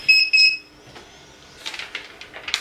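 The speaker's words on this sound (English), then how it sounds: "My heat press is going to be going off in just a couple of seconds here" A heat press timer going off, two sharp high electronic beeps at the start, followed by quieter rustling and handling noises.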